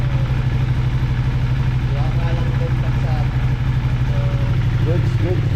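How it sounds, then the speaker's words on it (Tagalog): Honda CBR650R motorcycle engine rumbling steadily through its exhaust up close, a deep continuous drone with little change in pitch, while voices murmur faintly underneath. "Galit na galit yung makina niya."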